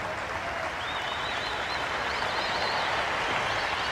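Cricket crowd at Kingsmead in Durban applauding during a 1995 South Africa versus England Test, a dense, steady wash of clapping with a few faint whistles rising over it.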